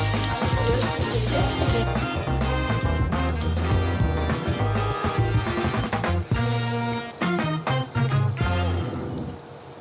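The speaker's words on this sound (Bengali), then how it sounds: "এবার ওই তেলে একটা শুকনো লঙ্কা, 1/2 তেজপাতা, 1 চামচ জিরে ফোড়ন দিয়ে দিলাম।" Dried red chilli, half a bay leaf and a spoon of cumin seeds hit hot oil left from frying potatoes, giving a loud, steady crackling sizzle with popping spatters throughout.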